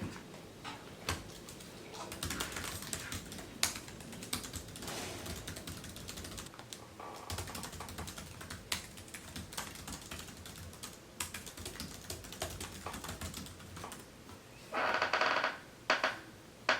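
Steady typing on a computer keyboard during a 30-minute writing sprint, a quick, uneven patter of key clicks close up with occasional louder strokes, and a brief rustle near the end.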